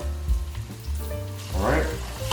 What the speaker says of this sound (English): What you wanna do is get it really hot in the pan.